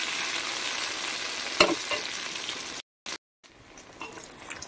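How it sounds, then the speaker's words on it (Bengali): Raw green bananas, coated in salt and turmeric, fry in leftover fish-frying oil with a steady bright sizzle and occasional pops, broken by brief silent gaps before the frying resumes more quietly. "এবার আমি কাঁচকলাগুলোকে ভালো করে ভেজে নেব হালকাভাবে।"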